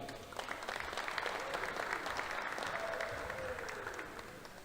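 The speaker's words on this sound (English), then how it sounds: "let's please give one more big round of applause for all of our career and technical education program area completers" Audience applause at a career and technical education completer ceremony, a dense, even patter of many hands clapping steadily throughout, with faint voices mixed in.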